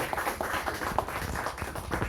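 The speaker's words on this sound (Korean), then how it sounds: "한 박수 보내주십시오." A crowd at a church mission gathering claps for an honored pastor and his wife, a soft, steady patter of many hands at moderate distance with no voices over it.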